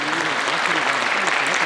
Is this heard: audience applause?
yes